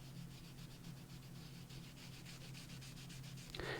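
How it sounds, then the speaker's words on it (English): Baby wipe rubbed over a mixed media journal cover, giving a faint, soft, rhythmic scrubbing with repeated back-and-forth strokes close by. "I'm just going to hold this in place and I'm just going to rub that in there, on there."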